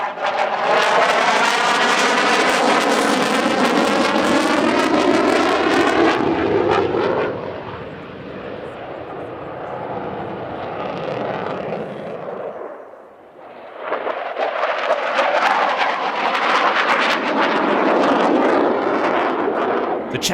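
Saab Gripen fighter jet at the Radom Airshow 2023, a loud roaring engine with a rising and falling whine as it passes, fading briefly before roaring back powerfully.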